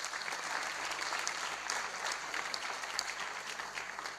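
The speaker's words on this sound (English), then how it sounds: "Clap for him." An audience claps steadily at a live political talk event, a dense, even wash of applause throughout with no voices standing out.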